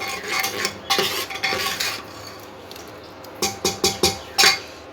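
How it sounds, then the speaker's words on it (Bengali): Spice masala being sautéed in a pan for a jackfruit and chana dal curry, with a spoon clanking and scraping against the metal in quick bursts over a faint background sizzle. "সব দিয়ে মশলাটা কষিয়ে নিচ্ছি"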